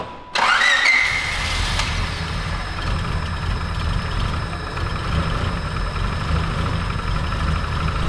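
A turbocharged Honda Civic coupe engine cranks and catches with a sharp starter whine, then settles into a loud, steady, rumbling idle up close, with no talking over it.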